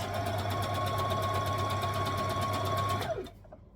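A domestic sewing machine runs steadily while stitching a knit tee, a fast, even mechanical hum and rattle close by, then stops abruptly near the end.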